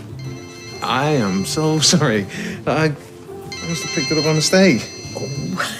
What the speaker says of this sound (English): I think that's my phone.